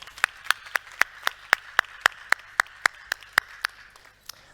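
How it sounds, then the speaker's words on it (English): Slow, evenly spaced single claps ring out one after another at a conference, about four per second, crisp and close, with no voices. "That deserves a round of applause."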